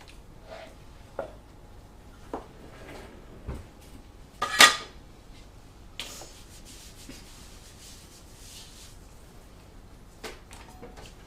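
Buttercream scraped around a bowl with a spatula or utensil, scattered soft scrapes and clinks with one louder scrape midway, close and fairly quiet against a hushed room, no talking.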